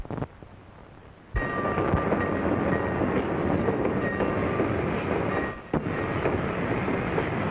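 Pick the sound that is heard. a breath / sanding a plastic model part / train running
train running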